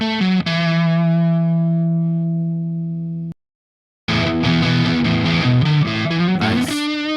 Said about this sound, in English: Okay, the high gain channel.